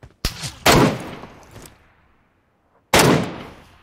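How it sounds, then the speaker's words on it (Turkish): AMR sniper rifle shots in PUBG Mobile: a sharp crack, a second heavier blast with a trailing echo, quiet, then one more loud shot near the end. "Bir AMR gibi bir ses geldi sanki."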